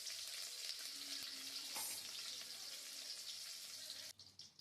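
Whole cloves, cardamom and cumin with cut green chillies fry in hot oil in a kadai for black chickpea sundal, a dense continuous crackling sizzle that cuts off abruptly near the end.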